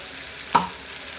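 Mutton being fried and stirred with a spice mix for mutton kosha, a single loud burst of sizzling and scraping in the pan that quickly fades to a low background hiss.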